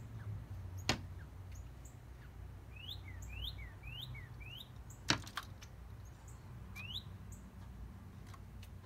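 A bird chirps near the windows of a home in quiet surroundings, with short rising tweets in a few quick bursts and two sharp knocks or taps standing out against a low, steady background hum.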